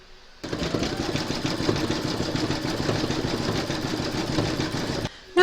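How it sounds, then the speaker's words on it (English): An embroidery machine sews a satin stitch border around an appliqué letter on in-the-hoop patriotic bunting, giving a loud, steady, rapid mechanical whirring and tapping that runs unbroken for about five seconds, then cuts off abruptly. "you can now stitch round number 19, and that's going to do the satin stitch border around your letter"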